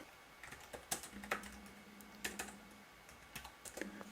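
Keys clatter in uneven bursts of typing on a Motorola Atrix Lapdock keyboard, close and fairly quiet, with brief pauses between flurries and no talking.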